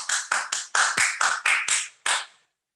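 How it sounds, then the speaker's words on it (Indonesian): A small group of classmates claps together after a game, about nine crisp, evenly spaced unison claps close by, ending in silence. "Tepuk tangan dulu untuk kita dalam game ini"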